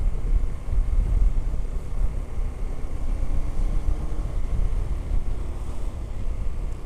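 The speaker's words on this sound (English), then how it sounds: "It's a bit windy up here." Steady wind gusts on an exposed hilltop roadside beside a 2022 KTM 1290 Super Adventure S motorcycle, a continuous low rumbling buffet across the microphone with no voices.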